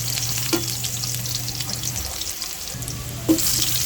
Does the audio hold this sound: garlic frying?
yes